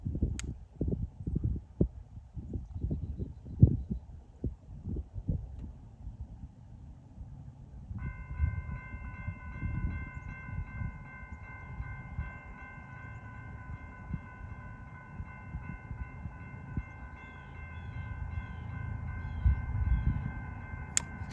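BNSF freight train passing at about 70 mph, with a sustained rumbling roar and clattering wheels close by and a loud steady multi-note horn joining partway through.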